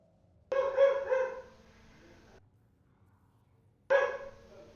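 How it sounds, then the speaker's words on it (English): A dog barks in two bursts, a longer double bark followed after a pause by a single sharp bark, fairly close and clear against a quiet background. "My dog is going off again."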